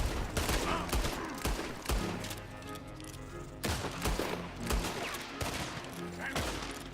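Repeated gunshots from a Red Dead Redemption 2 gameplay firefight, a burst of sharp reports near the start, then more spaced shots, loud over a continuous musical and ambient game background.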